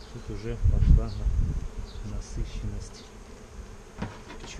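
Honeybees buzz densely over a frame lifted from a hive at an apiary, a close, wavering drone that swells early and then settles, with faint human sounds beneath.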